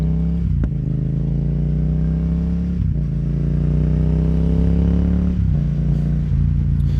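A Yamaha XSR700 motorcycle being ridden gives a loud, steady engine drone throughout, with brief dips and pitch shifts at a few points, heard close with no talking.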